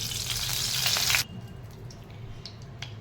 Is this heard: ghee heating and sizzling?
yes